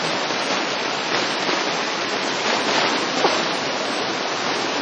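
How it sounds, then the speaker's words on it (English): Heavy rain in a video game pours down as a dense, steady hiss with little variation, continuous and fairly loud, with no voices. "I've never seen so much rain in such a short period of time."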